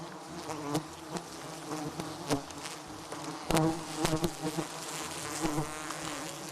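Wild honey bees swarm in a jungle, their dense buzzing steady throughout, swelling as individual insects pass close by the microphone.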